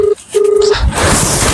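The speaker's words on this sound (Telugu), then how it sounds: "బావకైతే ఫోన్ చేస్తున్నాం." A phone beeps out two clear dialing tones, one short and one longer, as a call is placed, followed by a rising rush of noise and faint background sound.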